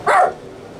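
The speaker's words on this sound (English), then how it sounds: "my dogs will probably bark at the thunder" A single sharp dog bark or yip from a household pet, close and fairly loud, lasting a fraction of a second before a quiet room tone.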